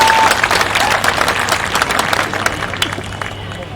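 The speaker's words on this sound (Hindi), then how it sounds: "ये जो तालियां बजा रहे हैं ना" An audience claps at a Revolt RV motorcycle launch event in Ahmedabad, a loud, dense burst of applause from a crowd that holds steady for a few seconds with faint crowd noise beneath.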